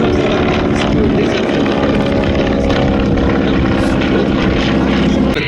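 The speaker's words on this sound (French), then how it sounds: "Les paramètres ne sont pas bons, l'avion est trop rapide" A propeller airplane roars past at the Meaux airshow, a loud, steady engine drone that fills the whole stretch with no talk.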